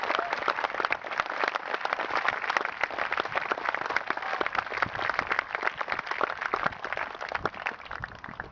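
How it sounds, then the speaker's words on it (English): Audience applause for first responders at an outdoor 9/11 twin tower beam dedication ceremony in Freedom Park, Urbana, Ohio: steady, dense clapping from a crowd sustained for about eight seconds at moderate distance. "Please, let's give them a nice round of applause."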